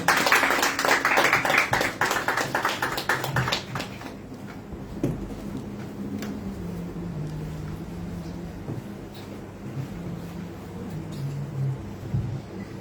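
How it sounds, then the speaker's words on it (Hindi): A church congregation at an evening prayer meeting claps in welcome, a dense burst of hand claps for the first few seconds that quickly fades, leaving low room murmur and faint shuffling. "हम खुदावन के पाक कलाम को और खुदावन की खादमा एवेंजलिस्ट शबाना सफदर को अपनी तालियों की गूंज में वेलकम करेंगे।"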